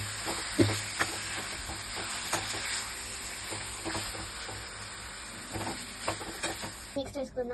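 Chicken for biryani sizzles and fries in a hot pan while being stirred, a steady crackling hiss with occasional scraping clinks of the spoon, ending in a few brief clatters.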